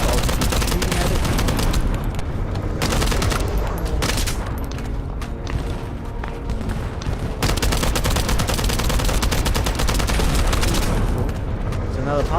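Sustained video game gunfire pours into a boss enemy's yellow weak parts, loud and dense rapid bursts almost without pause, with booming impacts mixed through a busy soundtrack.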